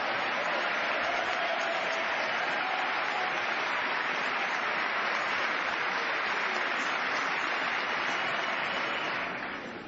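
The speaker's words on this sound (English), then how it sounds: "I thought I'd get some applause on that one." Sustained applause from a large audience in the chamber during the 2010 State of the Union address, a loud, even roar of clapping that fills the whole stretch and eases off only at the very end.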